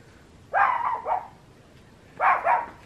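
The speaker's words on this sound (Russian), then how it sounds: "О, перекличка с соседскими собачками." At a country house, dogs bark back and forth with the neighbours' dogs: two short bursts of barking, moderately close, with a quiet pause between them.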